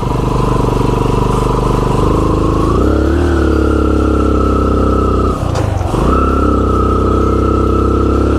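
A motorcycle engine drones loud and close while riding on sand on Jomalig Island, its pitch rising and dipping with throttle changes, with a brief clattering lurch partway through.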